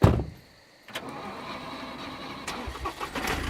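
A car engine starts up in the survival video game SCUM, a brief cranking burst followed by a steady idling rumble, fairly close and with no talk over it.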